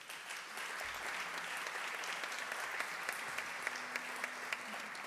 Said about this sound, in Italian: il maestro Federico Raffaelli, al quale rivolgerei un applauso,